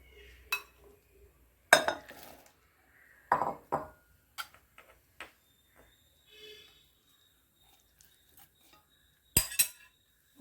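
Ash gourd pieces go into a cooker pot for Kerala olan, heard as a few sharp clinks and knocks of utensils against metal, spaced apart with quiet gaps between them.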